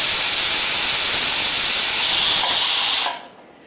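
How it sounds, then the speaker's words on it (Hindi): A pressure cooker whistle: a loud, steady hiss of steam jets out for about three seconds, then cuts off abruptly and fades to quiet. "अभी कुकर की 1 सीटी आ गई है।"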